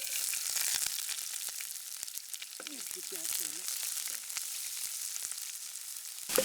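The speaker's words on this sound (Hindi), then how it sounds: "तो दोबारा से तेल गरम कर दिया है ये मशरूम के लिए" Onions fry in hot oil in a pan over a wood campfire outdoors at night, making a steady crackling sizzle with sharp pops from the fire and a faint voice briefly underneath.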